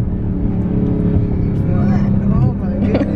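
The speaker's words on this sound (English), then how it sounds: "You hear the supercharger in it?" 2020 widebody Dodge Challenger Hellcat driving, a steady engine drone with a rising supercharger whine heard from inside the cabin while people talk over it.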